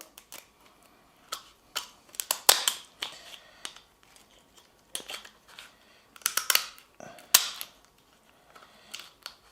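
Kitchen scissors snipping along the spine of a lobster tail shell for barbecuing, a series of sharp crisp cracks and clicks in irregular bursts with quiet gaps, close and clear with no talking.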